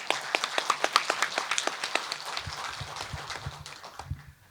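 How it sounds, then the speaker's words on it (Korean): Audience at a divided-families policy seminar claps in a brief round of applause, quick close claps at first that thin out and fade toward the end. "박수 한번 보내주시기 바랍니다"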